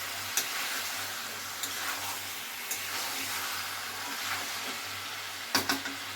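Grated ginger paste being stirred into chicken cooking down in a pan for chicken kosha, a steady close sizzle with soft scraping stirs and a few sharper utensil clicks.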